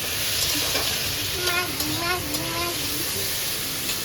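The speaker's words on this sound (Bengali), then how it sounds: "এদিকে চলছে ম্যাগির প্রিপারেশন যে জোরে জোরে সাউন্ড হচ্ছে ফোটার" Maggi noodles with potatoes, onion and peas sizzling in a hot pan, a steady bright hiss throughout, with a voice briefly audible partway through.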